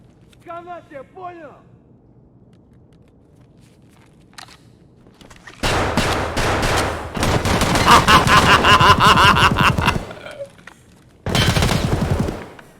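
Gunfire in Escape from Tarkov comes in a loud burst of rapid shots after a quiet lead-in with faint steps and voices, then breaks off and returns as a shorter second burst.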